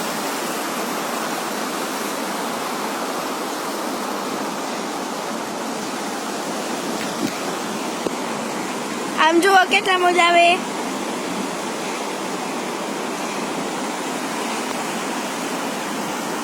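Heavy rain pours down steadily during a storm in Baroda, India, a dense, continuous rushing hiss with no letup, while someone speaks briefly partway through.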